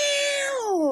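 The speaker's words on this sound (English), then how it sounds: "There's a cat in her other doll box." A cat meows once from inside a doll box, a clear close tonal call that holds steady and then slides downward at the end.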